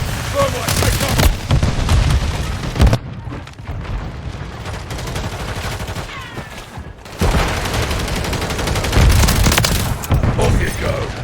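Thermite breaching charge goes off in Call of Duty MW3 War Mode, a loud blast followed by crackling fusillade of gunfire and booms, with a second burst of heavy firing later, no voices.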